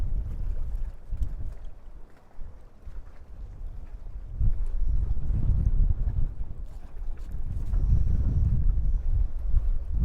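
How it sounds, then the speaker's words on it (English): Strong hurricane wind at the waterfront in Wildwood during Hurricane Erin, a loud, continuous rumbling gusting roar buffeting the microphone, swelling and easing in surges with water movement underneath and no talking. "The wind is as equally strong back here"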